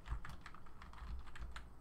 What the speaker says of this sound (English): It's already highlighted, so we can just start typing.